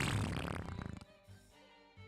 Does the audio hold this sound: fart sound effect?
yes